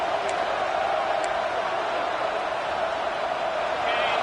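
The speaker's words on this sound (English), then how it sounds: "This crowd, full throat, splitting the eardrums and letting them know it's going to be a long day" Roaring stadium crowd in a college football video game, Georgia versus Washington, a steady, dense wall of noise that holds at the same level throughout, with a commentator's voice faintly over it.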